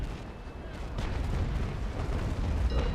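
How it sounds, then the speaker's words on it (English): Sailing-ship cannons fire in the Naval Action video game, a rolling series of deep booms and muffled blasts over a noisy sea-battle background. "so when he fires his cannons"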